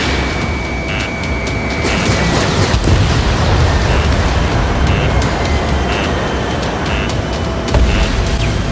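A bomber blows up in the Ace Combat 7 flight game, a loud sustained roar and rumble of the blast and jet noise with steady electronic warning tones beeping throughout.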